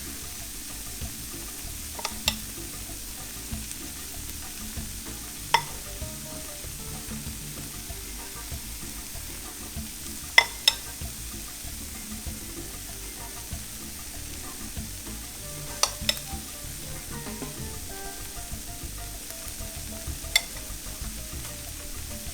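A vegan egg mixture for Mexican shakshouka cooks uncovered in a pan, giving a steady, soft sizzle throughout with a few faint clicks and taps scattered over it, no voices.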